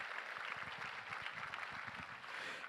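A luncheon audience claps for donors at a fundraising event, sustained dense applause from a large crowd, steady and moderately loud throughout.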